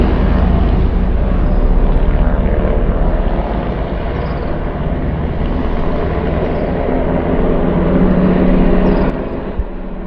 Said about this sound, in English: See, there's the helicopter coming in there.